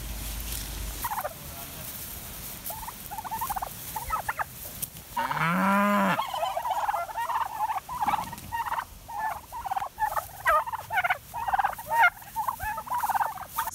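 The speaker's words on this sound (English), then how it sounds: "Back in front field with the turkeys." Turkeys gobble in a farm's front field, with repeated warbling calls in bursts over steady outdoor ambience, one loud call standing out near the middle and more gobbles trailing through the rest.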